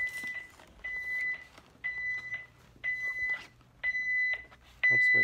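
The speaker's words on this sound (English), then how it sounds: "The alarm goes off." Security alarm keypad at a comic studio door beeping in a regular pattern of about six sustained tones with short gaps, close by, over faint rustling and background noise.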